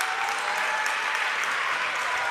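Crowd applauding in a high school boys' basketball gym, Washington at South Allegheny, with steady, dense clapping held at an even level for the whole stretch, no voices on top.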